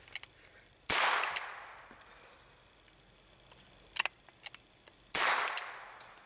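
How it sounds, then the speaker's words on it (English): Two loud sharp cracks from a .22 single-shot rifle, a few seconds apart outdoors, each with a short echoing tail and small clicks of handling in between. "this is why you can't shoot fast with a 22."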